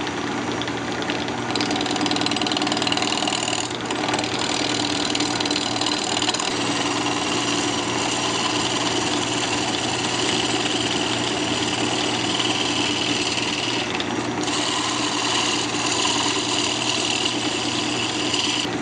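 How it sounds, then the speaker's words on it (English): A wood lathe spins a glued-up redwood Christmas ornament blank while a roughing gouge trues it, giving a steady, loud motor hum with constant cutting texture and no talking. "I'm going to go ahead and use a roughing gouge."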